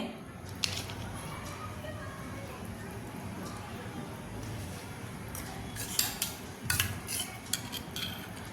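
A spoon dabs sweet jaggery-tamarind chutney onto dahi puris, with soft scraping and light clinks of utensils and a few sharper taps near the end, fairly quiet and close.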